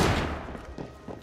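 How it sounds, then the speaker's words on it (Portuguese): Gunfire in the video game Assassin's Creed Syndicate: a loud opening blast followed by a couple of fainter, quick thuds as the report fades, over a short stretch. "É tiro!"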